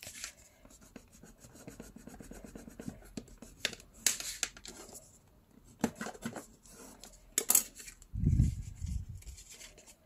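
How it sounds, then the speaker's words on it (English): A bone folder rubs and presses down folded paper on a butterfly pop-up tag for a vintage-style journal, giving soft scattered scraping strokes and a few sharper rasping swipes near the work, with no talk. "I'm gonna take my bone folder and press everything."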